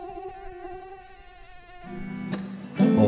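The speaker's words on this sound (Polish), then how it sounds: "Opada nas horda wściekle kąsających komarów." Biting mosquitoes whine near the ear with a thin, steady buzz that wavers slightly. The whine gives way to louder rustling and knocking noises toward the end.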